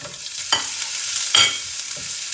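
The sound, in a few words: garlic, curry leaves, red chillies and onions frying in tempering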